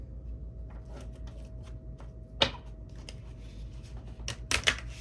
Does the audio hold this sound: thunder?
no